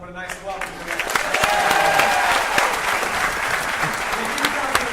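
Studio audience on a Millionaire quiz show applauding a contestant's family, a full crowd clapping that swells after a second and holds steady, loud and close, with a voice briefly at the start.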